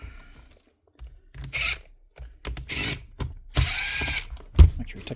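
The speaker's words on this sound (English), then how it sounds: "Pull everything out, all the screws out." Screws are backed out of a Makita drill under warranty repair with a power driver: short whirring bursts of varying length separated by clicks, ratchet-like snaps and quiet gaps, close and fairly loud.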